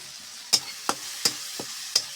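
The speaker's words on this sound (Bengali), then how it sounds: "মশলা কষা চলছে।" Onion and garlic spice paste is stirred and fried in a pan for a chicken curry with yogurt and capsicum, giving a soft, steady sizzle broken by several distinct scraping strokes of a spatula.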